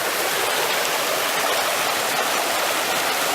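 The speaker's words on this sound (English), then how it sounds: "we've just made our way back to the stream" Wildcat River in the White Mountains flows past close by, a dense, even rush of water filling the short stretch with no breaks and no voices.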